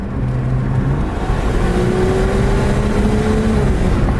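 A 900 hp BMW M5 Competition with turbos accelerating hard, a loud steady engine drone with a slowly rising tone heard from inside the car, no talk over it.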